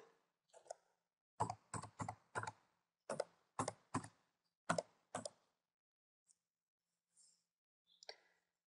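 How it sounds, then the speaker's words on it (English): Keys clack as a password is typed on a computer keyboard, a quiet close series of about a dozen separate taps in irregular bursts with gaps between, and no voices. "We're going to confirm that password by typing it again."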